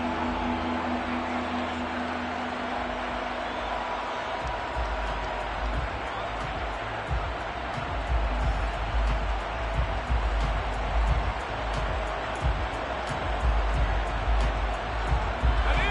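A stadium crowd in a Madden football video game cheers and roars steadily, a dense broadband swell of voices that builds toward the end, with no clear talk over it.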